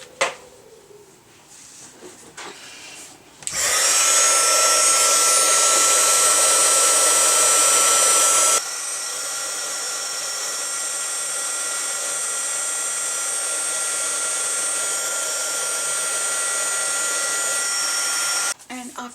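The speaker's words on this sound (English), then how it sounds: "I'll use the embossing tool, heat gun here" A heat gun blows steadily to melt embossing powder on a handmade Christmas card, a loud broadband whoosh that starts abruptly after a few soft handling sounds, then drops to a slightly lower setting and runs on before cutting off.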